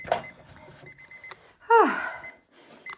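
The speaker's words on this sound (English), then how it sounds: "There's the timer going." A kitchen-style cleaning timer sounds once partway through with a brief rising electronic chirp, fairly close, between stretches of quiet household background.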